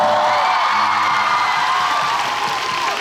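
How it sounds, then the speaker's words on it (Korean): Audience applause mixed with cheering and whoops at a live stage event for Samsung Play the Challenge, a steady dense crowd roar that holds for the whole stretch without fading. "박수 부탁드립니다"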